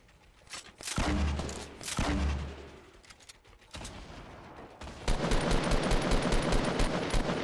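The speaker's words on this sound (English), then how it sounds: "he's shooting someone else right now" Gunfire from another player in Fortnite Battle Royale, scattered rapid bursts early on, then a dense sustained fusillade of shots in the last few seconds, distant to mid-range.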